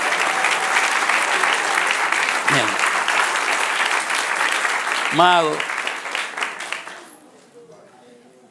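Church congregation applauding during a sermon: a dense, steady wash of clapping from many people, with short shouts breaking through, before the applause fades out near the end as a voice speaks.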